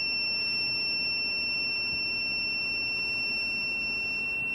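An Apple self-repair tool used on an iPhone 12 Pro gives off a continuous high electronic tone, steady and unbroken throughout, with faint background hiss and no talk.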